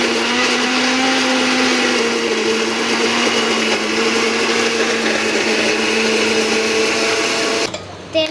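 A mixer grinder whirs loudly and steadily, blending onion, ginger, green chili and garlic into a paste, its motor holding an even high drone for several seconds before cutting off abruptly near the end.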